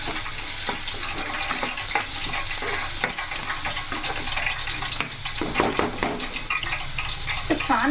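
Green chillies and onions frying in hot oil in a pan give a steady broadband sizzle with scattered crackles and stirring clatter, fairly close and continuous throughout.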